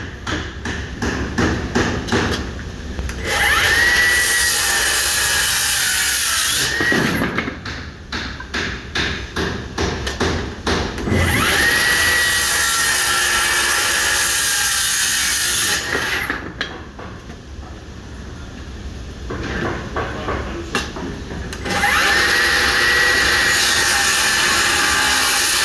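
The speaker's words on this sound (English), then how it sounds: "Take my trusted handsaw." A trusted handsaw cuts through a wooden rafter in bursts of rapid back-and-forth strokes, close and raspy, with short pauses between the runs of sawing.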